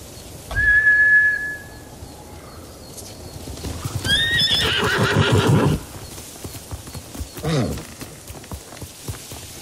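Samurai horses in Ghost of Tsushima neigh loudly and whinny up close, with hooves clip-clopping away and a soft bed of rain underneath; a brief whistle-like tone rings out near the start.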